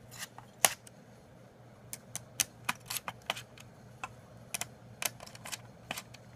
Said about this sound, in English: what you're going to do is just unscrew these screws here.